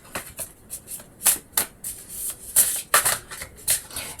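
Tarot cards are shuffled by hand close up, a series of quick crisp riffling and flicking bursts with short pauses between them.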